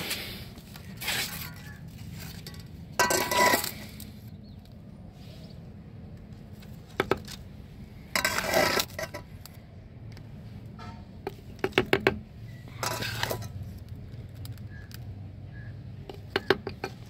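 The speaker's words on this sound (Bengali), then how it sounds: "এবারে দ্বিতীয় আর একটা গাছে আমি ফার্টিলাইজার দিতে যাচ্ছি।" Fertilizer going into the soil of a potted pineapple plant on a rooftop garden: intermittent rustling, crinkling and scraping bursts separated by quiet gaps, close by, with no talking.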